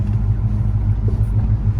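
A 1985 Monte Carlo V8 with Super 40 exhaust idling or cruising, a loud, steady, deep rumble that throbs low and close.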